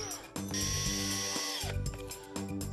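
A cordless drill whines steadily up close as it screws a metal dowel into the edge of a wall unit panel, running in a couple of sustained bursts with brief stops.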